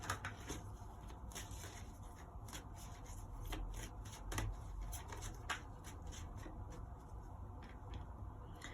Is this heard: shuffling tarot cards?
yes